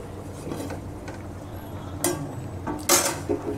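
A metal lid set onto a pot of simmering dal, giving two sharp clanks around the middle and end, the second louder, over a steady low kitchen rumble with faint scattered clinks.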